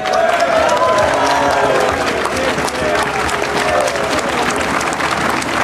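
A crowd at a Vuelta a España cycling stage podium claps and cheers steadily for the Milram team stage winner, dense applause under a voice on a public address system.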